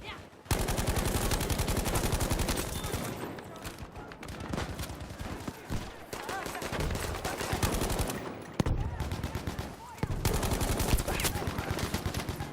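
Rapid automatic gunfire in Battlefield 5, sustained bursts of loud, dense shots with brief pauses between volleys, sometimes under faint talk.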